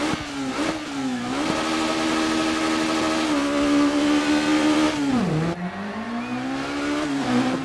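Peugeot 306 Maxi rally car in the DiRT 4 racing game, its engine revving loudly and continuously with rising and falling pitch as it shifts gears, dipping briefly near the end before climbing again.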